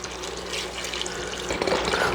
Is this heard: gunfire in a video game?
no